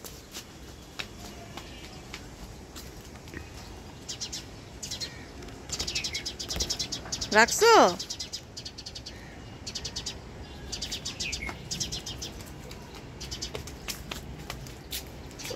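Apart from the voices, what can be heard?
birds chirping on rooftop garden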